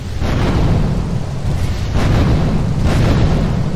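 A rocket-launcher blast in Grand Theft Auto 3, a loud, sustained booming explosion rumbling for several seconds with no voices over it.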